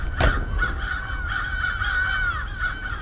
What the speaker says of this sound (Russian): И вороны, ля, ненавижу этих тупых птиц.